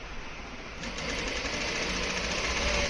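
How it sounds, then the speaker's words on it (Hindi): Close, steady whirring hum of a sewing machine running continuously with a long stitch along a ladies' pant pocket, getting slightly louder after the first second. "हम एक बड़ी चाल से हम इसमें सिलाई करेंगे।"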